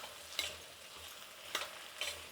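Dosa batter mixed with lemon juice being stirred in a bowl, three soft scraping strokes spaced across a short quiet stretch, close and fairly faint, with no talk.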